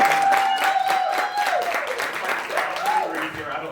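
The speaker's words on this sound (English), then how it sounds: "You guys can clap for that." An audience at a live podcast taping applauds and cheers under a voice talking, with steady clapping and crowd noise throughout.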